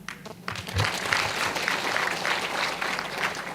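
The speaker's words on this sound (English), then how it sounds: "Let us clap for our management and MDs." Shareholders at an annual general meeting clap for management and directors, a steady wash of audience applause lasting several seconds with faint voices underneath.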